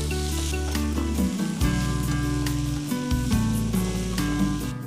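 Chopped onion goes into a pan with already-fried dry fruits, giving a steady close sizzle with hiss and crackle throughout, over a continuous tonal hum or music-like background.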